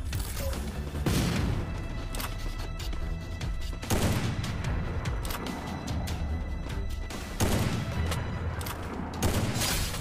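Gunfire in a ranked Free Fire Clash Squad match: loud volleys of shots erupt every few seconds over a dense, continuous layer of game sound.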